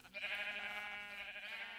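Sheep bleating on a grassy sheep farm in Minecraft, one long, steady, wavering bleat that fills the whole moment, loud and close with no talking over it.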